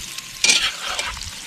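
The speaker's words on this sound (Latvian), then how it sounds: "Cep kartupelīši." New potatoes frying in a pan, a steady close sizzle with a burst of hissing and stirring scrapes partway through, no voices.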